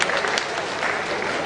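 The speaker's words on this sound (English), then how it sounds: "I want all of us to clap for ourselves" A workshop audience on university professionalism claps together in a brief burst of dense, even applause.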